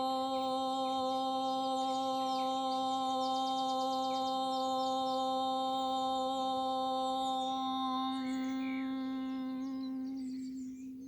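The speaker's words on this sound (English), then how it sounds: "So wonderful to hear the birds responding this morning." Morning birdsong: high chirps and trills flutter above a sustained tonal drone that fades out toward the end, with no talking.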